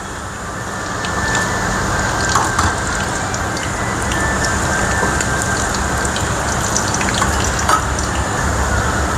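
Cumin seeds and red chilies sizzle in hot oil, a steady dense crackle with scattered sharp pops that carries evenly throughout, close and fairly loud with no talking.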